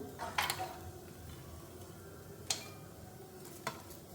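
Cashews fry in oil in a pan while a paneer pulao is cooked, giving a steady low sizzle with a few sharp clicks of a utensil against the pan.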